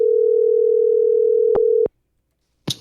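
Steady telephone dial tone hums loud and unbroken for nearly two seconds, cut by a couple of brief clicks before stopping, followed by a short burst of noise.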